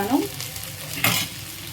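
Okra (bhindi) frying in a pan, stirred with a utensil: a soft continuous sizzle with a brief louder scrape and hiss of stirring partway through, close and fairly quiet.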